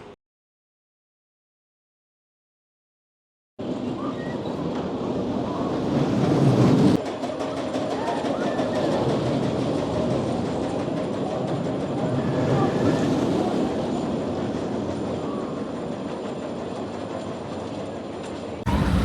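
Roller coaster ride on Icon at Blackpool Pleasure Beach: after a few seconds of silence, a loud, steady rumble of the train running along the track carries on without pause, with a brief surge partway through.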